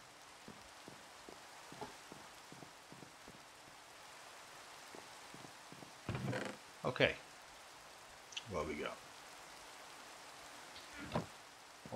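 Steady, faint rain hisses through a Minecraft world while a person talks over it in short phrases.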